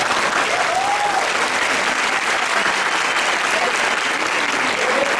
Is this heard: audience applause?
yes